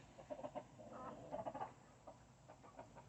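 Chickens cluck in a backyard pen of laying hens with a rooster, a run of soft, rhythmic clucks and calls close by, rising and falling in short bursts with no talking.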